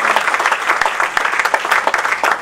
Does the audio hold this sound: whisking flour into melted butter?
no